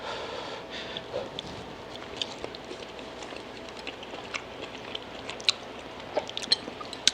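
Someone chews a mouthful of Thai beef curry with ground beef and green beans up close, with soft, quiet mastication and small wet clicks throughout.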